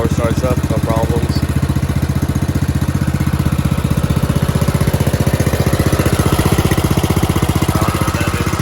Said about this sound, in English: Lawnmower starts up, no problems.